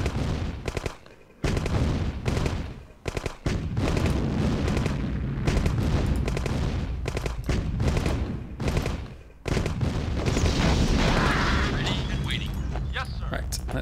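In Command & Conquer: Tiberian Dawn, a Nod mission set in Abidjan, Ivory Coast, gunfire and explosions rip through a village in dense, repeated bursts and booms. A voice talks over the battle.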